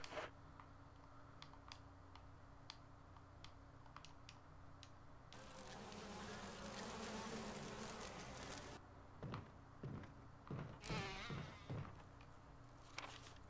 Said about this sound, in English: Of course there's giant bees.